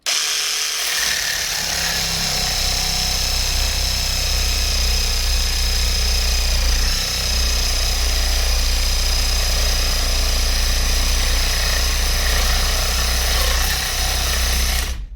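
An AL-KO cordless reciprocating saw fitted with a worn Bosch blade cuts a 3 mm pipe using the blade tip, a continuous loud buzzing drone with a high whine that runs steadily almost the whole time, no talk.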